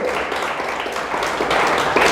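A church congregation applauding, a steady wash of many hands clapping together, fairly loud and continuous, growing slightly toward the end.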